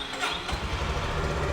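A Honda CB350C 350 cc motorcycle engine catches and settles into a deep, throbbing idle, close and steady, with no voices.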